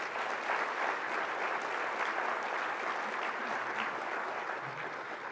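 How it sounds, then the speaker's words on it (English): An audience applauds conference presenters with dense, steady clapping that fills the room evenly and holds for several seconds without a break. "Let's give them a round of applause,"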